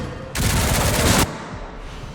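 Rapid gunfire in the video game Resident Evil Requiem, a dense, loud burst of shots lasting about a second over a quieter game ambience.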